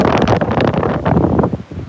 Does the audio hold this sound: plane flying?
no